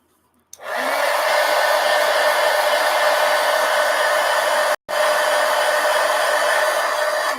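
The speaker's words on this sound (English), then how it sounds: "now what I'm going to do is hit that with the heat gun" Heat gun blowing on paint in an adult coloring book: a loud, steady whoosh that starts abruptly, cuts out briefly for a split second, then resumes at full strength.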